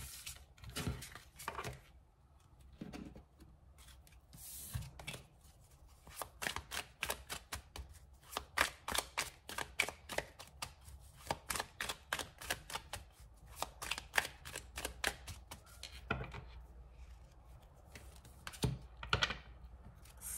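Tarot cards being shuffled and drawn for a love reading, a long run of quick, light, crisp card flicks and taps, fairly close and quiet, with no talking.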